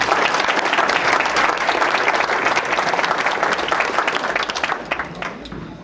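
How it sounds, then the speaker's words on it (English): Sustained audience applause at a Wisconsin cycling event honoring a tandem distance world record, dense and steady clapping throughout that thins slightly near the end. "let's give a round of applause again"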